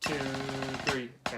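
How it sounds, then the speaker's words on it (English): Snare drum buzz roll from a middle school audition etude, a short rapid rattling roll that runs into a sharp accent, as a voice counts the beats alongside it. "I'm interpreting it as a buzz roll that leads into count 3."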